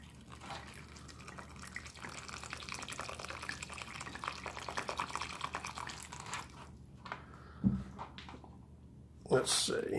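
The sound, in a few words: hot water poured from canteen into ration bag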